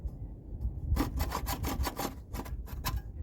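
A coarse hand saw rasps back and forth through wooden slats in quick, even strokes, close up and steady, with no one talking.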